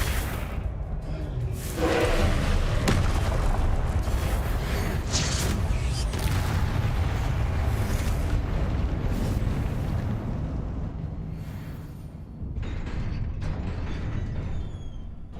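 A Confringo blasting spell bursts in Hogwarts Legacy combat: a loud, sustained explosive roar and rumble that fills the whole stretch, with a brief dip near the end before the boom resumes.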